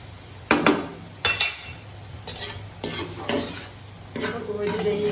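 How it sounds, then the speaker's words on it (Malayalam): Onions frying in oil for a Kerala-style kachha chivda mixture are stirred and scooped out. Sharp metal scrapes recur over a steady, close sizzle that grows a little louder at the end. "ഇത് നമുക്ക് നമ്മുടെ ഉള്ളി മൂത്ത് വന്നിട്ടുണ്ട്."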